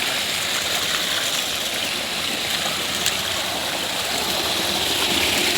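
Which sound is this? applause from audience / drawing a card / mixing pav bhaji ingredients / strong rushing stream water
strong rushing stream water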